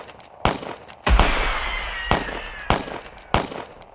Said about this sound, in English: when suddenly machine gun fire fills the air